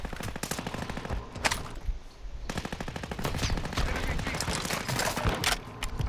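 Gunfire crackles in Call of Duty Warzone 2, a sniper rifle among the shooting, with dense rapid reports that continue almost without pause, loud and close, broken by one short lull.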